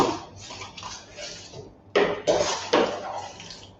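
Lid being set on a pot of simmering cashew nut soup: a few sharp metallic clanks and scrapes of the cover, close and clear, over quiet kitchen background.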